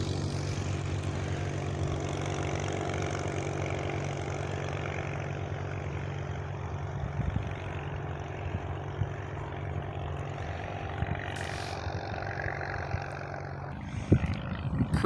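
A model airplane engine drones steadily in flight, a constant buzzing tone heard from a distance, with a few faint bumps and handling noises toward the end.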